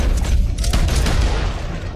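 Gunfire in Red Dead Redemption 2 crackles in a rapid volley of overlapping shots, loud and close, with several sharp reports bunched together before tapering into a booming rumble.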